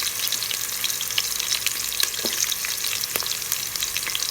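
Garlic sautéing with onion and ginger in a pan for chicken tinola, a steady close sizzle with small crackles and light stirring scrapes throughout.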